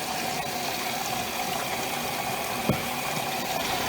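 A Maytag washing machine fills with hot water at the start of a normal cycle, producing a continuous, even rush of inflowing water over a low pump-like hum, with one brief knock near the end.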